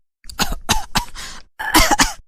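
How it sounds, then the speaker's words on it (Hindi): A series of loud, harsh coughs in two quick bursts, close up, with a brief pause between them. "चुड़ैल जोर जोर से खांसने लगती है"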